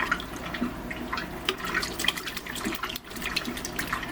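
Basil plant rinsed under a running tap, water splashing and gurgling steadily at close range with irregular spatter.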